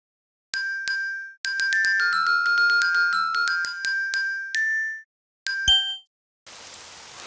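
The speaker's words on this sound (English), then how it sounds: "Oh, it's raining outside." Cartoon rain sound effect: a run of bright, tinkling, plinking notes like falling drops, ending with a brief burst of soft, hissing rain, clear and close with no talking.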